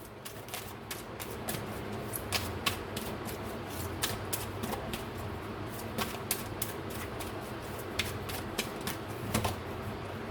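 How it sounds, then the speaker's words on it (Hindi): A deck of cards is shuffled and drawn, making a steady run of crisp, close flicks and snaps at an irregular rhythm, with no voices. "एक कार्ड मैं और लूंगी।"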